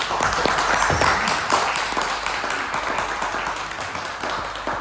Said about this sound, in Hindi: जोरदार तालियां सागर में